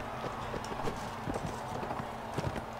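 A horse gallops in the video game Mount & Blade Warband, its hooves drumming in a steady, rapid clip-clop rhythm over a dense layer of battle noise.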